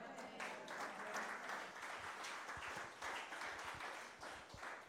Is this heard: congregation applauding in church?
yes